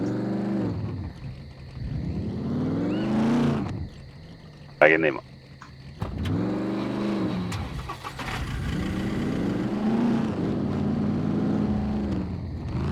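A car in the survival game SCUM revs up and accelerates through gears, engine pitch repeatedly rising and falling, with a sharp clunk midway and people talking over the engine.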